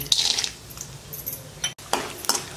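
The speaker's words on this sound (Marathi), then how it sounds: "सुरुवातीला शेंगदाणे तळून घेऊ" Peanuts frying in oil in a kadhai, with light sizzling and scraping stirs of a spoon against the pan in short irregular bursts, close and moderately loud.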